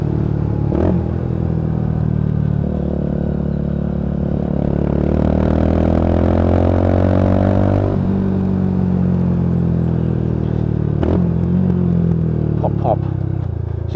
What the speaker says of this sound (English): You do get the pops and bangs from this exhaust.